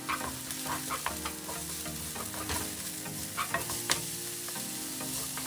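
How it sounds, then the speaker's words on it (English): Chopped onion, carrots and ham stir-fry in oil in a preheated pan, a steady close sizzle broken by irregular scrapes and clacks of a utensil against the pan throughout. "Put the chopped large onion and fry it well. Add carrots and ham as well."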